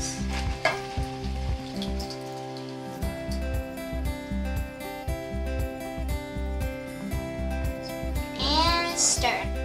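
Sausage sizzles steadily in a frying pan as Italian sauce is stirred in, a continuous frying hiss with scraping stirs running under loud rhythmic background music.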